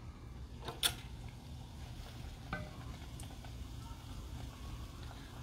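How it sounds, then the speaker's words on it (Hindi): Bread frying in hot oil with a soft, low sizzle and a couple of faint clinks as it is moved around the pan, quiet and steady throughout. "now I will fry this, oil is decently hot enough"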